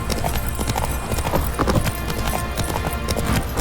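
Roach, a horse in The Witcher 3, trots with quick, steady hoof clip-clops on hard ground, close and loud, with no speech.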